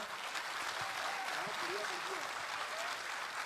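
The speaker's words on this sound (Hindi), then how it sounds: "एक बार जोरदार तालियां" A crowd at a poetry gathering gives a round of applause, a soft, fairly distant wash of clapping that holds steady throughout while a faint voice murmurs beneath it.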